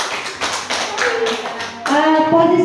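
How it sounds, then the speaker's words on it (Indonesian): Classroom applause for a student named Ida, a short burst of rapid hand claps that builds quickly, with a voice speaking near the end. "beri aplaus untuk Ida"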